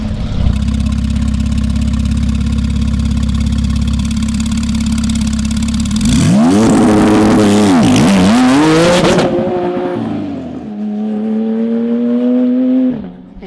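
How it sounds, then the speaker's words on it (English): A 1000+ HP Audi RS3 drag car at the drag strip idles loud and steady, then launches hard with a roaring, rising engine note and gear changes that sweep and fade into the distance, followed by another engine idling close by. "Mark Blackwell's car is about to make a pass"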